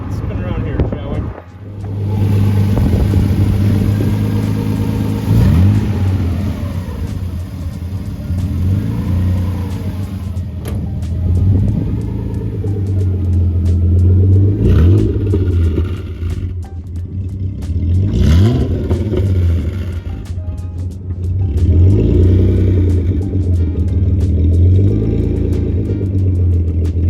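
A 1932 roadster's engine rumbles steadily throughout a drive, rising and falling as it accelerates and slows, with people talking over it.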